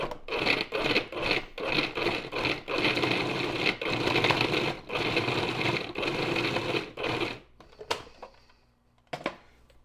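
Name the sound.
food processor pulsing and grinding beef fat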